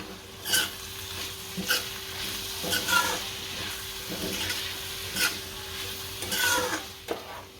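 Salt and chili being stirred into a pan for roti noodles, with a soft background sizzle and a series of separate scraping spoon strokes roughly every second, close up and without speech.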